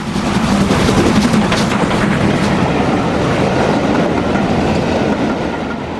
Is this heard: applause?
no